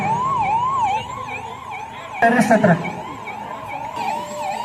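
Wailing ambulance siren from a health department vehicle at a KGF district police terror-attack mock drill, rising and falling continuously, with someone talking over it and a burst of louder noise partway through.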